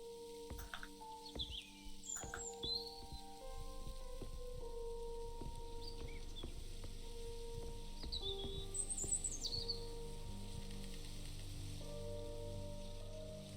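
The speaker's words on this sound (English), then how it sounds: "Birds." Birds chirp and tweet in the Maid of Sker video game, scattered bright calls over a soft, rain-like hiss and low sustained tones, fairly quiet throughout.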